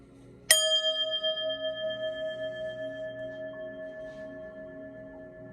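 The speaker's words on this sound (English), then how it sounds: "We're going to ring the bell and clear your energy" A single bell struck once to clear energy, giving a bright metallic strike followed by a long, pure ringing tone that slowly decays over several seconds in a quiet room.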